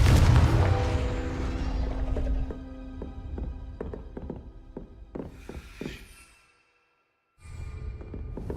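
A Confringo fire spell blast from the Hogwarts Legacy video game, a loud broadband burst at the start that fades into a series of sharp taps and hits, a brief silence, then another burst of game noise.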